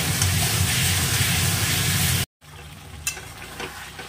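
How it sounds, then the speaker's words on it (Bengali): Potatoes and spices stirred and fried in a pan, a steady loud sizzle with stirring scrapes that cuts off abruptly, then a quieter sputtering fry with occasional sharp crackles. "এই যে আলুর সাথে এবার ভালো করে কষিয়ে নিচ্ছি মশলাটা"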